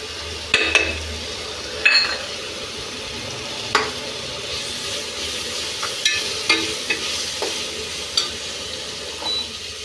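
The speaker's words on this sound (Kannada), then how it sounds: "ಇವಾಗ ಈ garam masala, chilli powder, masala item ಹಾಕೋಣ." Vegetables fry in a pan with tomato and mint leaves as garam masala and chilli powder are stirred in, giving a soft sizzle under repeated scraping strokes and light clinks of a spoon against the pan.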